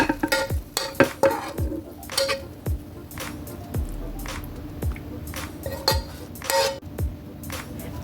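Sautéed vegetables being stirred in a pan with a utensil, giving repeated scraping and clinking strokes over a faint sizzle, close and moderately loud, with no talking.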